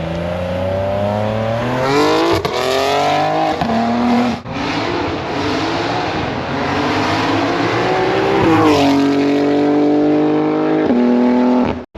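Modified 2025 BMW M3 G80 Competition drives up loudly, its engine rising and falling through several revving pulls and shifts, close and aggressive for about twelve seconds, with no voices.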